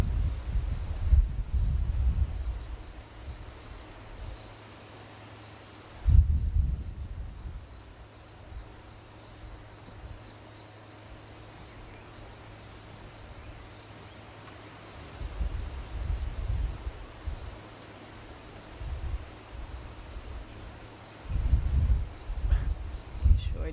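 Wind buffets the microphone during an open-vehicle morning safari drive, arriving in loud low rumbling gusts at intervals with quieter, steady breezy stretches between them.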